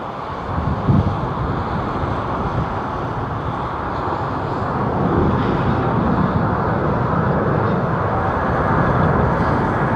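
Boeing 777-200 airliner with Rolls-Royce engines at Heathrow, a steady broad jet roar that swells slightly in the second half, heard alone with some wind buffeting on the microphone.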